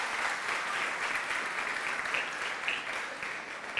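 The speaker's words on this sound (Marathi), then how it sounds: "जोरदार टाळ्या." An audience at a Loksatta Marg Yashacha talk breaks into strong, dense applause, steady and close throughout before tapering slightly at the end.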